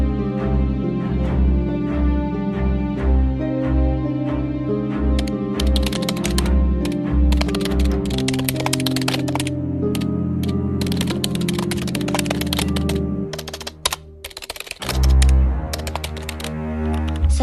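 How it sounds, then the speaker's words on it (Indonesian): Typewriter keys clatter as the proclamation text is typed, bursts of sharp, close mechanical strikes over steady background music, growing dense and rapid in the second half. "Sayuti Melik pun mengetik teks tersebut."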